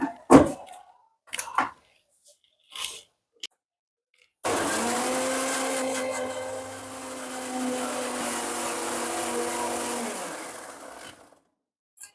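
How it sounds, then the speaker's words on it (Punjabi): A kitchen mixer grinder blends coconut with water into coconut milk. Brief bits of talk come first, then a loud, steady motor whir runs for about six seconds, dipping slightly and rising again before it cuts off. "ਮਿਕਸੀ 'ਚ ਗ੍ਰਾਈਂਡ ਕਰ ਦੇਣਾ ਪੂਰੀ ਤਰ੍ਹਾਂ"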